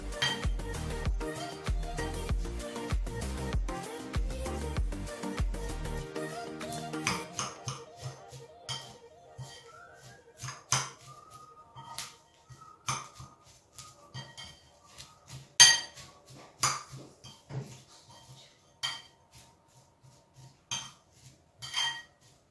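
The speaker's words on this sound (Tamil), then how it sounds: "சிறிதளவு உப்புத்தூள், சேர்த்து நல்லா மிக்ஸ் பண்ணி கொள்ளணும்" Banana blossom for a Sri Lankan sambol being mixed with salt in a bowl: faint, scattered clinks, taps and scrapes of a utensil, irregular and close, with a denser patch of sound early on.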